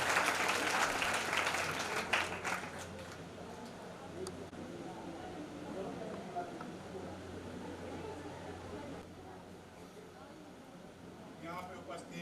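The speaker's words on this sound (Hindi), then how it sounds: "जोरदार तालियों से स्वागत हो सर" Applause from the audience at a Bihar Police constable final selection honouring ceremony in Gopalganj, loudest at the start and then settling into a steady, fainter patter of clapping across the room.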